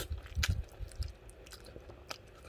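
Close chewing of Taiwanese dry noodles, with a few soft bites and wet mastication sounds over a short, quiet stretch.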